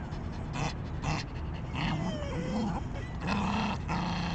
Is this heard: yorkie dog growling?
yes